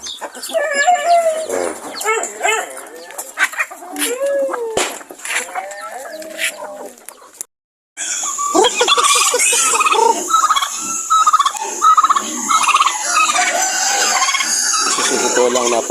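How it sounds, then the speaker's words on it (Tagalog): Farm chickens and roosters cluck and call in a rural yard, with busy overlapping bird sounds throughout and a louder, denser stretch of calls in the second half; a person talks at points. "napakarami na natin dito mga alagang manok"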